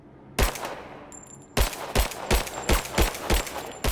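Gunfire in the video game Tomb Raider with unlimited ammunition: loud, close shots, a single blast and then a steady run of heavy repeated reports about two to three per second, with no talking.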